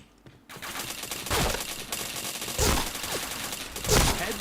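Bursts of gunfire in a shooting video game ring out three times at roughly even intervals, each loud, sharp crack trailing off into a brief rattle, with quieter game ambience in between and no talk.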